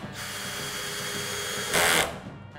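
Power drill driving screws into the top of an Output PLATFORM desk during assembly, a loud steady whine that surges higher near the end, then spins down; no talking.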